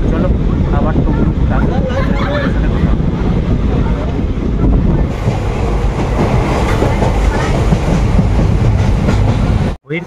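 A night train from Digha to Kolkata pulls out of Contai station, its loud, steady rumble and rhythmic rattling of the carriages heard from inside, with wind buffeting the microphone and a brief dropout near the end.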